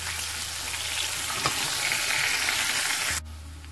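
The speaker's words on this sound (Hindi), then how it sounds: "मीडियम फ्लेम पे इसको अच्छी तरह हम फ्राई कर लेंगे" Spiced potatoes with garlic powder, chili flakes and crushed coriander fry on a medium flame, giving a loud, dense, continuous sizzle close by that cuts off abruptly near the end.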